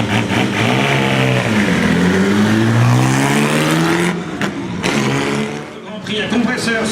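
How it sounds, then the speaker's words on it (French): A Bugatti Type 35 2-litre race car engine revs loudly and close at a vintage Bugatti festival in Molsheim, its pitch climbing and falling in sweeps before settling, while an announcer talks over it. "Ce Jean-René Georgenthum, au volant de son type 35 2 litres."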